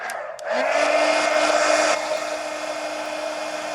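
A hair dryer switches on and runs steadily, drying paint on a mixed-media art journal page; a loud close whir with a steady tone that drops in intensity partway through.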